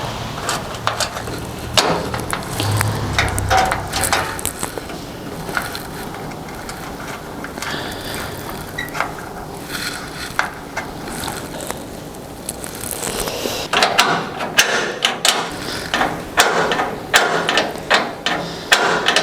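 A hand tap cuts threads into a brass nut, giving repeated close, sharp metallic ticks and clicks in irregular bursts, with louder clustered taps near the end.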